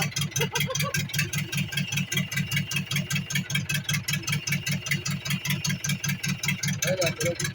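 A motorcycle or small engine idles steadily after starting, a loud, even rapid chugging beat that holds throughout, with a brief voice near the end.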